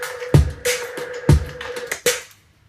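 Layered drum and clap loops from a music production track: punchy kicks and sharp, bright claps fall in a steady groove with a sustained tonal note underneath, then stop abruptly, with no talking.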